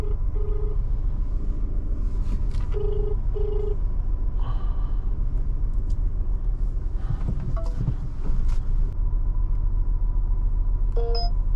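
A phone call to a ride customer goes unanswered: a few short ringback tones chirp from inside a moving car, mostly buried under continuous engine and road rumble.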